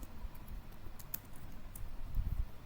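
A computer keyboard clicks as a ChatGPT prompt is typed, soft irregular keystrokes up close, with a quicker cluster of taps near the end and no talk.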